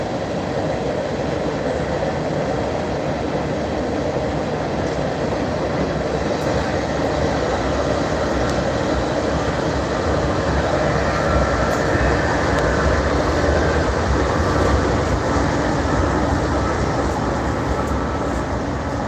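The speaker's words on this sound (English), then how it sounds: "There goes the BNSF coal train." A BNSF coal train rumbles across the Harahan trestle bridge, a loud, continuous roar of rolling wheels and rattling cars that stays steady and close throughout.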